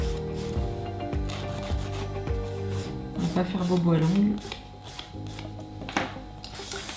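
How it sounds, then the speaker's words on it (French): An electric nail sander grinding off the last of a set of gel nails, a steady close rasping hum running throughout with a rising whine near the middle, while someone talks over it. "je vais mettre un dernier petit coup de ponceuse, voilà, pour enlever ce qui nous reste"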